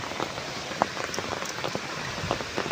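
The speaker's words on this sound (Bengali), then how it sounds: "এখনও বৃষ্টি হচ্ছে, হাওয়া হচ্ছে, প্রচুর পরিমাণে বৃষ্টি হচ্ছে সকাল থেকে।" Steady heavy rain falls on a village with wind, forming a constant close hiss broken by sharp drips and patters on nearby surfaces.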